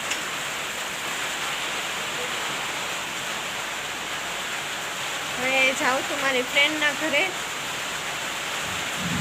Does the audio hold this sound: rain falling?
yes